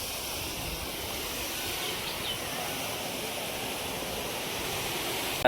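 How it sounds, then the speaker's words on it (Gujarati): Steady rush of water flowing into Khodiyar dam during the monsoon in the Gir area, a continuous broadband roar that holds level throughout with no talk. "જો ભાઈ પાણીની આવક ચાલુ લાગે છે."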